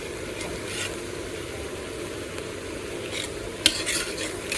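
Red amaranth greens frying in a pan give off a soft steady sizzle, with a spatula scraping and clinking against the metal now and then.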